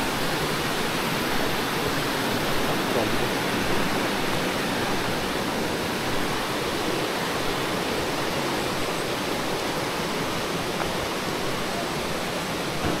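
The Canikdere waterfall in Tonya, Turkey roars in a steady, dense rush of white water that stays close and loud throughout without a break.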